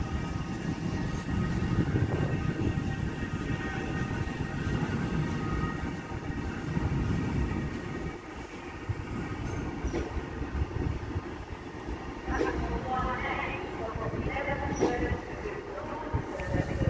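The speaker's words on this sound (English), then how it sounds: "Metrolink tram from Manchester Victoria. Worked by 3002." Manchester Metrolink tram 3002 departing Manchester Victoria, a steady low rumble and rolling rail noise that stays moderately loud, with faint squeals and clatter later on.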